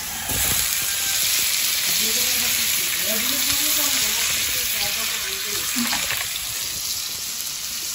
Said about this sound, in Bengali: এই যে পেঁয়াজটা সুন্দর করে ভাজা হয়ে গেছে। এবার টমেটোগুলো দিয়ে দেবো।